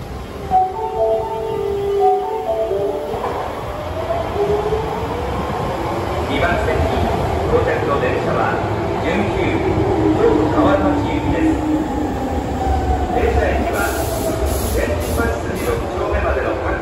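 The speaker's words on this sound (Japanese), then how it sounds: "準急京都河原町行きが到着します。" Osaka Metro Sakaisuji Line train pulling into Minamimorimachi station, a steady underground rumble and rising rail noise that fills the platform throughout, with announcements and voices over it.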